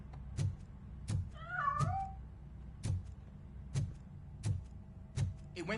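A single short meow from a cat hidden inside a piano in a video game, rising over a series of regular soft thumps and clicks, with no talk.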